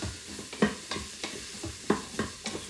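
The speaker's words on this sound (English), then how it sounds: "I'm just gonna stir that in well" Sweet potatoes and vegetables being stirred in oil in a soup pot, with a steady run of scraping, clacking spoon strokes at an uneven rhythm over a faint background sizzle, close up and with no talking.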